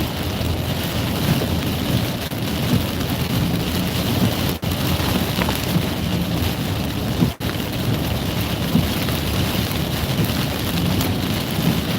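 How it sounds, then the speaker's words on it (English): Heavy rain pours steadily during a tornado-warned storm, a continuous loud hiss of drops on surfaces with a few brief sharp breaks in the downpour. "Rain's definitely coming down pretty good right here."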